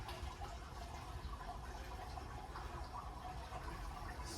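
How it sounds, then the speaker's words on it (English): Water pours steadily into a home-brew IPA mash, a continuous splashing, gurgling stream that stays close and even throughout, with no talking. "Just add in that water."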